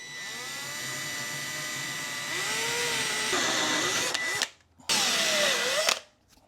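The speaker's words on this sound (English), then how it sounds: "Now I'm going to countersink some" A power drill runs steadily while countersinking screws into wood for a live edge shelf, a loud continuous whine that shifts pitch under load and then briefly stops before a second burst.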